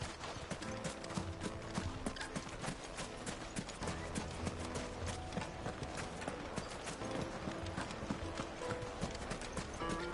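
Horse hooves clip-clop in a steady, dense rhythm throughout, loud and close, mixed with a busy music-like background.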